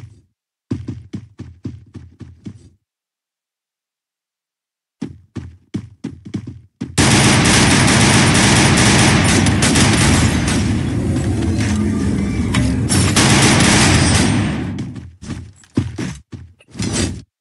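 Gunfire in a mobile shooter game, short bursts of sharp shots in two groups, then a long loud continuous barrage of firing and blasts lasting several seconds before tapering back into scattered shots.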